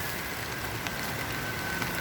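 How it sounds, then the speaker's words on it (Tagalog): Heavy rain falls steadily as a dense, constant hiss with no talking. "bakit ang lakas ng ulan?"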